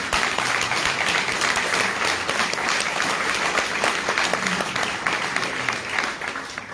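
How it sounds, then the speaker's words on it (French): A large audience claps steadily and loudly throughout, a dense wash of applause with no break. "Merci de vos applaudissements"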